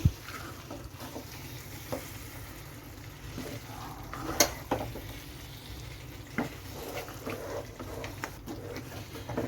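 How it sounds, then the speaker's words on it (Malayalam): Kerala-style camel roast curry with fresh coriander leaves stirred in, giving a low continuous sizzle with intermittent spoon scrapes and clatters against the pan. "മല്ലിയില ഒന്ന് ചേർത്ത് കൊടുത്ത് നമുക്ക് ഒന്നുകൂടി നന്നായിട്ടൊന്ന് ഇളക്കി ഒന്ന് യോജിപ്പിച്ചെടുക്കണം"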